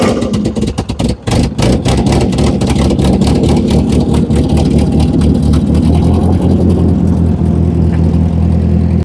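A Ford 8N tractor engine runs steadily and loudly close by, with a burst of sharp knocks or pops early on, then a continuous low, even chugging idle that holds for the rest of the time.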